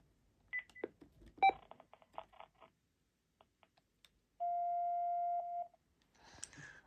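Buttons pressed on an RCA multi-line telephone while putting a line on hold: a few quiet clicks and short beeps, then a single sustained tone lasting about a second, followed by faint handling noise.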